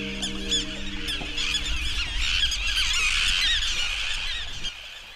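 Many river terns call at once at their nesting island on the Bhadra, a dense chorus of shrill, overlapping cries over a low steady rumble.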